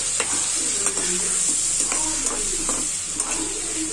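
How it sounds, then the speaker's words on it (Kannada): Spices and masala ingredients for paneer gravy fry loudly in a pan, a bright constant sizzle with frequent quick stirring scrapes and taps up close. "ಎಲ್ಲಾನು ಐಟಮ್ಸ್ನ ಒಂದೇ ಸಲ ಚೆನ್ನಾಗಿ ಫ್ರೈ ಮಾಡ್ಕೋಬೇಕು"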